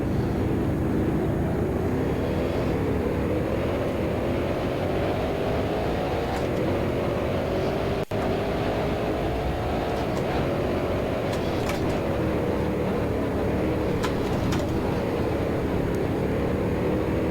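A Can-Am race car engine roars steadily and loud at Edmonton Speedway, its pitch rising and falling through gear changes and throttle shifts for the whole stretch, with a brief click near the middle.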